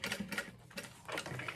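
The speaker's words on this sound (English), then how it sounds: "I'm just sewing about 1/4 of an inch seam allowance" A sewing machine stitches a quarter-inch seam on an Alaine handbag, running in loud, rapid mechanical bursts with a brief pause in the middle, close to the mic and without any talk.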